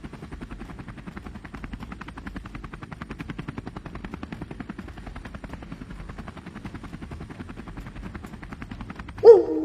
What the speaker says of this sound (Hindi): फिर वहां से गुल्ली बुल्ली और सॉन हेलीकॉप्टर स्टार्ट करके वहां से भाग जाते हैं।